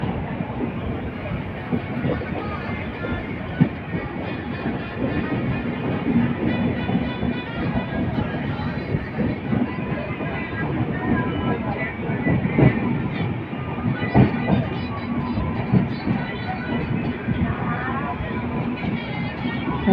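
The North East Express train at Dhupguri railway station, a continuous close rumble of rolling carriages with rhythmic rattling and occasional clanks, with voices talking over it.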